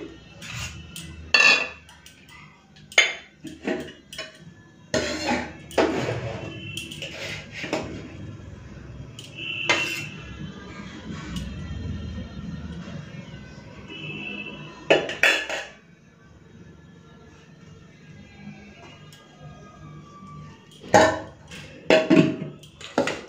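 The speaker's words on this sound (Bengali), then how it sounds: "চলুন ভাতটা বেড়ে নিই।" Rice being served onto a plate with utensils in a home kitchen, heard as a series of sharp clinks and scrapes of metal spoons against dishes and pots, spaced irregularly over a quiet background.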